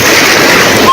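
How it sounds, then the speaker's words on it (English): Tsunami waves from the 2022 Tonga eruption surging onto the coast near Nuku'alofa, a loud, continuous rushing wash of water close by. "Tongans are on the beach to film the first waves hit the coast."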